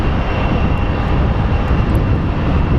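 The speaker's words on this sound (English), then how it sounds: "And here comes our little Embraer." Embraer regional jet passing at Phoenix Sky Harbor International Airport, a loud steady engine roar holding evenly throughout without a clear rise or fade.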